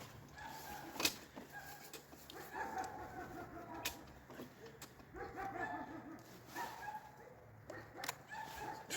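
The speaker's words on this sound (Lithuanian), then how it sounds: "Šunys supyko. Visi." Several dogs bark and yip in a village on a steep road during a motorcycle trip, the barking coming in irregular bursts at moderate distance, with whimpers between and a faint rooster-like call in the background.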